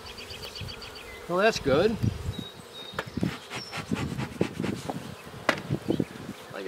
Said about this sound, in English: there's a lot of bees up in there